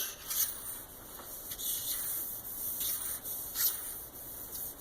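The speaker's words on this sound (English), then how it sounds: "you can use a quarter to just run it across the seam" A quarter coin scrapes back and forth across a white quartz countertop seam, several short rhythmic rubbing strokes, quiet and close with no clicks.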